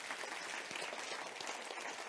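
A church congregation applauds during worship, a steady, dense wash of many hands clapping together, fairly faint and even from start to finish.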